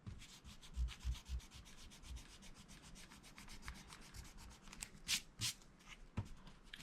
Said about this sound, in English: you can take a white magic rub eraser and rub down the drawing so the blue is not as strong